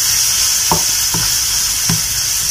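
A spoon stirs chili paste and sauces frying in a pan for a butter mushroom masala, making three distinct scraping strokes over a loud, continuous oily sizzle with no voices.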